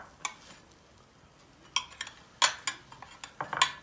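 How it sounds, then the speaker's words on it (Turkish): A spatula loosening a chicken meatball in a pan, a series of light metallic clinks and scrapes against the pan, irregular and close, over a faint background hum. "Şöyle hafiften bir spatulayla köftemizi yerinden oynatacağız."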